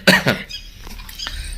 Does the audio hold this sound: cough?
yes